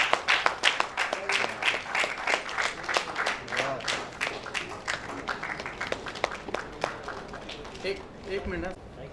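An audience claps at a book launch ceremony for a poetry collection, a dense burst of applause that rises quickly and tapers off as a voice speaks near the end.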